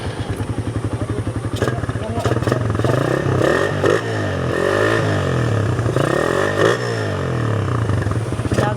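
A motorcycle engine sputters into life, idles with a rapid putter, then revs up and down several times up close, with people talking nearby.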